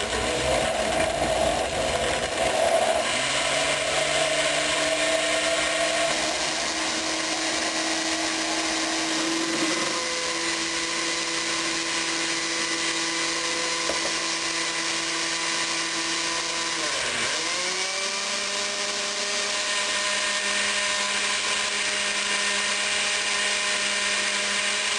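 A blender mixes a kefir smoothie with a constant high motor whine, its pitch shifting and dipping a few times as the load changes, loud and close for a long unbroken stretch.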